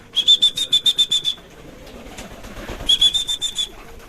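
Pigeons arrive at a feeding spot with two bursts of quick, rhythmic, high whistling, the first lasting about a second and the second coming after a pause. Faint background noise runs beneath, with no talk.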